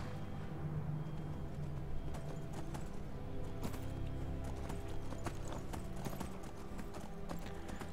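Horse hooves clip-clop at a gallop in the video game Skyrim, a steady near rhythm of hoofbeats running throughout under a low game ambience, with a brief whinny.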